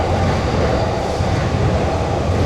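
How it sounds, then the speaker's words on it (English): A loud train rumbles along tracks directly overhead, a continuous heavy roar with deep low-end rumble and steady broadband clatter, filling the whole stretch without pause; recorded outdoors while cycling in Chiba, Japan. "Holy, that train is loud."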